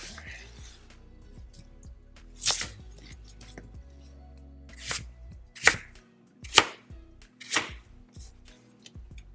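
A knife chops potatoes on a board in several sharp, separate strikes, some in quick pairs, close and clear against a quiet background.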